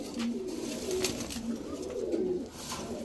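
Soft, repeated cooing from a female pigeon rises and falls over steady background noise, several low throaty calls in a row at close range.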